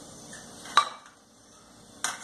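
Washed banana peels drop into a cooking pot with a sharp clatter, then a second clank follows a moment later in a quiet kitchen.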